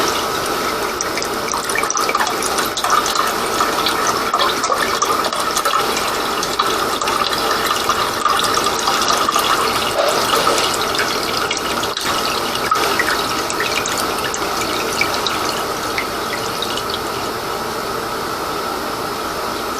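Liquid is poured steadily into a container while making plum wine, a continuous close splashing flow that runs for about twenty seconds with no talking.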